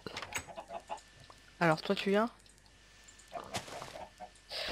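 Minecraft chickens give a short burst of clucking near the middle, between stretches of a person chatting.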